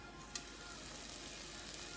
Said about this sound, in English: So as you can see, it's sizzling, it's kind of almost sticking together